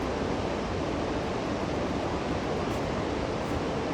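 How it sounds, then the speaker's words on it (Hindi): The Pindar river in the Himalayas rushes along in a steady, dense roar of flowing water, even and unbroken throughout, with no voices. "या पिंडर नदी का ये सुंदर सा रूप"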